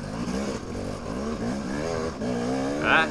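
A dirt bike engine keeps running after a crash in a hare scramble race, a steady buzzing drone that holds at a fairly even level close by and rises briefly near the end.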